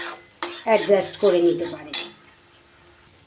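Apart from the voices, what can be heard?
stirring and frying spice paste (masala) in pan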